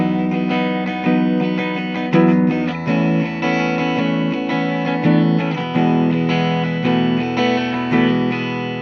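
A 2008 Epiphone Les Paul Custom GX electric guitar in Dirty Fingers Red plays on a clean tone with the neck pickup selected, giving a sequence of sustained, ringing chords and single notes that are struck at a moderate rhythm, loud and close.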